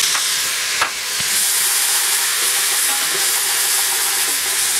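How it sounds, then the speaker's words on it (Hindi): Garlic ginger paste frying and being stirred in a pan while making Karachi-style Sindhi biryani, a steady loud sizzle and hiss with a brief stir scrape. "और लहसुन अदरक का पेस्ट डाल लिया"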